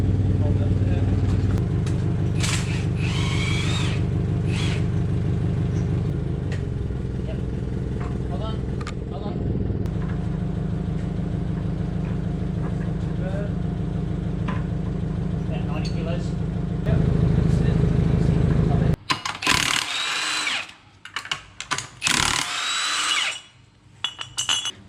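A forklift engine runs near a Porsche being converted to electric power, with a steady low drone and mechanical clatter under talk. It then cuts off, leaving lighter workshop clinks.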